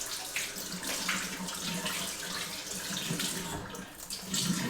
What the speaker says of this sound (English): Hold on, I'm going to wash my fingers.